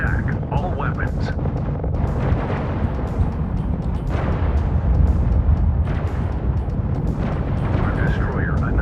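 Battleship weapons and torpedoes fire in the space strategy game Infinite Lagrange, a dense continuous barrage of booms and bursts under steady voiced game announcements.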